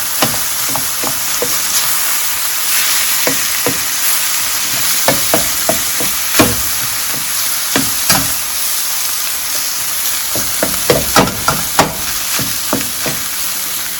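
Meat browns in a pot for pasta fagioli soup, a steady loud sizzle and hiss of frying with frequent clicks and scrapes of stirring throughout, and no talking.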